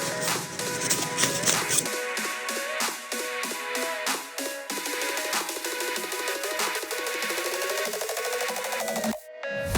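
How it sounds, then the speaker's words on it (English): A Revlon Shape and Buff block is rubbed over a fingernail in quick, rapid strokes. The scratchy buffing taps repeat steadily and close, with a louder clatter near the end. "now I'm going to use this Revlon Shape and Buff to buff it a little bit more"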